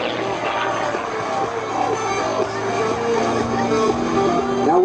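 An MX2 aerobatic plane with a composite Whirlwind 400 propeller drones overhead in extreme aerobatic flight, the engine pitch wavering and sliding up and down as it maneuvers, steady and fairly loud throughout.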